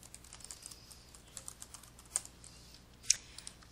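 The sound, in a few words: typing on a computer keyboard in Excel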